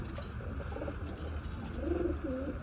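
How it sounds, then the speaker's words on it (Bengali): A pigeon coos softly at close range, with a few low, rolling coos that grow clearer toward the end over a steady background hum. "এই কবুতরটা খুবই ডেঞ্জারাস"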